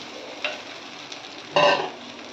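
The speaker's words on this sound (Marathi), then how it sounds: "आणि आता मी याच्यात अंडी टाकते" Five eggs go into a hot pan for egg bhurji, with a soft background hiss, a light clink, then a brief louder burst of sizzling and scraping as they hit the pan.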